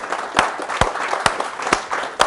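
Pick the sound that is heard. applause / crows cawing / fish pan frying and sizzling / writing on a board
applause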